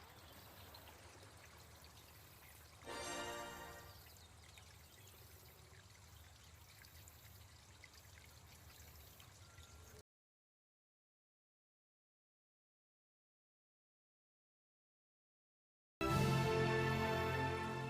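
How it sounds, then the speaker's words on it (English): Rushing water at a well house in the Colossal Cave remake, a steady soft flowing stream with a brief louder splash early on, then silence before the water returns loud and close. "You see rushing water."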